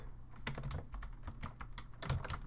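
Rapid typing on a computer keyboard, a steady stream of close, crisp key clicks with a few firmer strokes.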